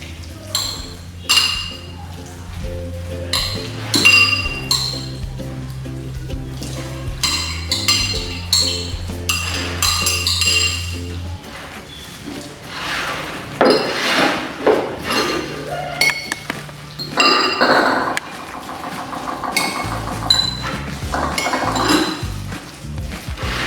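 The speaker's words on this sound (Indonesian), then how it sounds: "Kita aduk sampai rata, semua tercampur dengan rata." Spoon clinks and scrapes in a bowl while soy sauce and chives are stirred together, with a steady run of light metallic taps near and clear, plus scattered clatter and brief talk.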